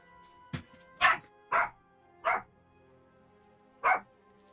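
A dog barks five times in short sharp bursts with uneven gaps, close and fairly loud against a quiet background.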